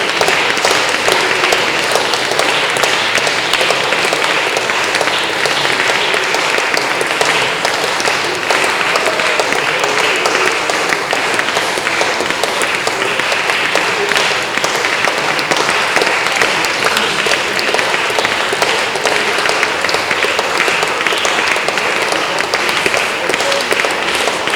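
Church congregation clapping hands during prayers for hurricane disaster relief, a loud, steady, dense roar of applause that keeps going without a break, with voices blended into it.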